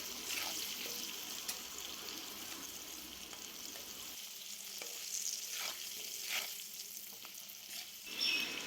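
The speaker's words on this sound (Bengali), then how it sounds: "এরপর আলুগুলো আমি ভেজে নেব" Potatoes sizzle in hot oil in a home kitchen pan for egg curry, a steady crackling hiss with occasional stirring scrapes and clinks, close and continuous with no talking.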